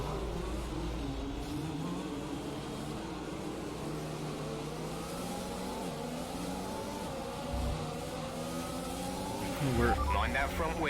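F1 car engine in the video game F1 2021 racing at Bahrain, a sustained engine drone whose pitch shifts and climbs, rising sharply near the end, with a voice talking over it.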